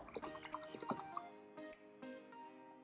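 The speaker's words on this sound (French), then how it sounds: "Je vais rincer mon pinceau." A paintbrush is rinsed in a cup of water while painting a framed portrait, giving small close splashes, drips and light taps in a quiet room.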